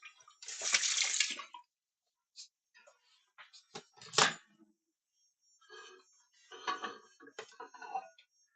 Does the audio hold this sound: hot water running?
yes